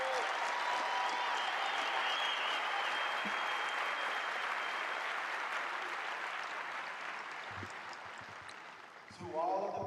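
Sustained applause from a large audience at a US Air Force basic training coin ceremony honoring the Stars and Stripes, a dense even roar of clapping that slowly fades, with voices starting up at the end.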